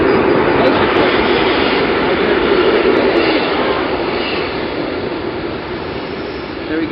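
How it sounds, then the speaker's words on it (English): A train passes by, a loud, steady broadband rumble and rattle that carries through the whole stretch with no talk, easing slightly toward the end. "Oh, there's a train."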